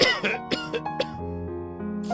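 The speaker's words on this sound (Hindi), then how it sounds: "उनकी खांसी ने एक बड़ी बीमारी धारण कर चुकी थी।" A man coughing in a Hindi cartoon, a few harsh throaty coughs and throat clearing in quick succession over steady background music, close and fairly loud.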